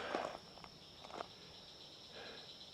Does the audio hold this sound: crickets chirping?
yes